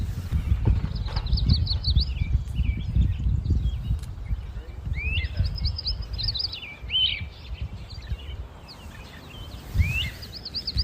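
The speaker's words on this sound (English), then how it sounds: "we're also watching and hearing blackpoll warblers, Carolina wrens, yellow warbler, magnolia warbler, Tennessee warbler, and the great crested flycatcher" Birdsong on Monhegan Island, Maine, from warblers including blackpoll, yellow, magnolia and Tennessee, plus Carolina wrens and a great crested flycatcher: repeated bright chirps and trilled phrases over a low, rumbling outdoor background.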